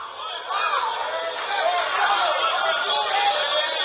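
An audience at a live talk cheers and murmurs, a dense, steady crowd roar with voices blended together, swelling after the first half second and holding loud to the end.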